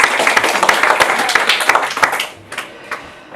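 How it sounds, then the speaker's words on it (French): An audience applauding a prize winner at an eco-awareness event, a burst of close, lively clapping that fades out after about two seconds, leaving a few scattered claps. "Vous pouvez l'applaudir."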